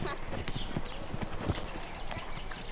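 Horse hooves clip-clop in a steady rhythm during a Finnish riding lesson in an arena, moderately close, with an instructor's voice talking over the footfalls.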